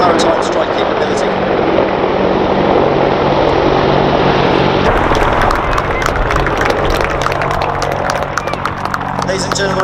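An AH-64E Apache Guardian attack helicopter flies a display at an air festival, its loud broadband rotor and engine roar filling the air with a rhythmic blade chop that grows sharper midway, under a public-address announcer's voice.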